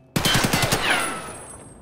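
Full-auto burst from an AKS-74U rifle in Escape from Tarkov, about eight rapid close shots cracking in quick succession, then a ringing tail that fades over the next second.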